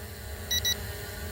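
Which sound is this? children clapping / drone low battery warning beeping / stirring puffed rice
drone low battery warning beeping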